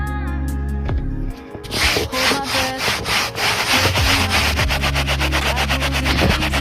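A stiff brush scrubs a rust mark through heavy soap, making loud rapid rasping strokes close up, after a short pause and a switch to a different brush.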